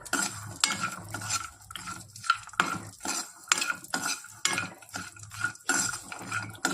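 Cashews, pistachios and almonds are stir-fried in a pan, heard as rapid rhythmic scraping and rattling of a spatula against the metal, with nuts clattering and a light sizzle underneath.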